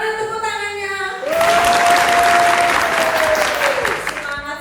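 An audience at an MC school event in Surabaya breaks into loud, dense applause, cutting in abruptly after a voice and running steadily for about three seconds before talk resumes, with a sustained tone underneath.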